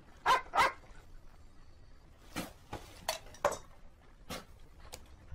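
A dog barks in short, sharp bursts spread across the scene, with faint clinking of a bowl or dishes between the barks.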